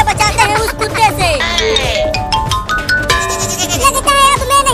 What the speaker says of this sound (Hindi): वो रहा बकरी का बच्चा